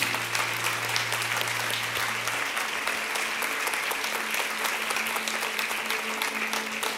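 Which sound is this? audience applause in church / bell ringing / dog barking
audience applause in church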